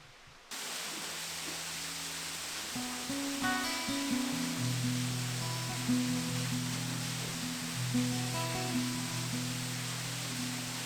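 Steady broadband rush of a waterfall spilling into a small recess-cave grotto on an Ohio day hike, constant and enveloping throughout, with faint tonal hums layered under the roar.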